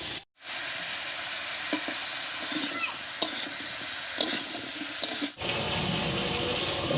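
Split green chillies hit a pan of fish already cooking with salt and turmeric, bringing a steady sizzle and frying hiss with a few stirring clatters, then an abrupt break before the loud frying resumes.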